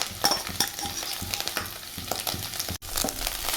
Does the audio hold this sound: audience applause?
no